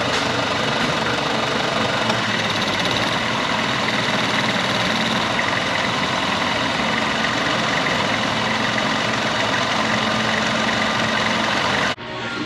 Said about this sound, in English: That's bogging the engine down and causing it to shake and vibrate violently, especially at idle.